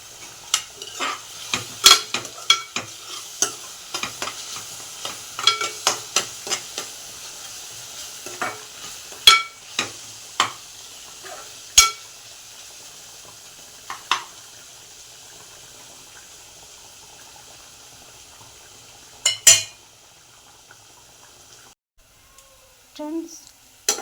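Mutton fries in oil with browned onions for a home-style curry, a soft background sizzle punctuated by frequent sharp spoon clinks and scrapes against the pot, irregular and close.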